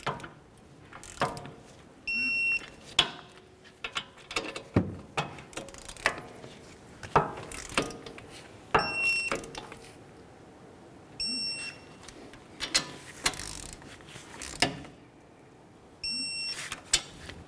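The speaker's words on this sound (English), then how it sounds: "Now let's torque these to 65 foot-pounds." Torque wrench tightening the hub bearing bolts on a 2014-2020 Nissan Rogue, with repeated ratcheting clicks and several short high-pitched beeps recurring through the clip amid clanks of tools.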